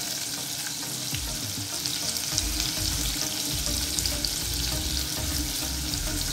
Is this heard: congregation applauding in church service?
no